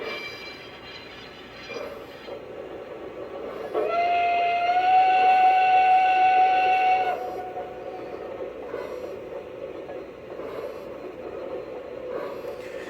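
A Lionel Legacy Pennsylvania Railroad B6 0-6-0 switcher model train's steam whistle sounds as one steady, sustained toot lasting a few seconds, rising above a low mechanical rumble.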